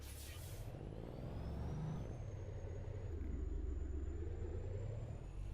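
A Kenworth K100E truck in American Truck Simulator gives a sharp burst of air-brake hiss, then settles into a steady, loud, low diesel engine rumble that runs on alone.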